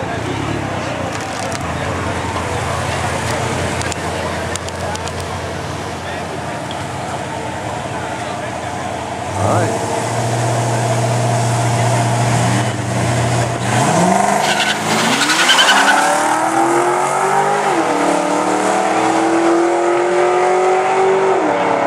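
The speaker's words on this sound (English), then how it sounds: "We got Miguel and Cindy in the blue Dodge, running Pablo in the Mustang." Two street cars, a blue Dodge and a Ford Mustang, race at a gut event, engines roaring and revving hard with rising pitch sweeps as they accelerate away, loud and continuous with crowd chatter around.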